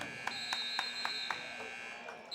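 A buzzer at the end of a period in a Seton Hall Prep versus St. Mary's high school basketball game sounds as a series of five evenly spaced electronic pulses over a steady hum of gym noise.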